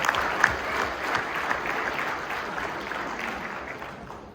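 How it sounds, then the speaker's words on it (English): A talk audience gives itself a round of applause: a soft, sustained wash of many hands clapping, somewhat distant and fairly even, tapering slightly toward the end. "Give yourself a round of applause"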